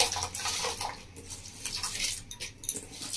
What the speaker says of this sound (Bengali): আমি চাল আর ডালটা এবার ধুয়ে দিচ্ছি।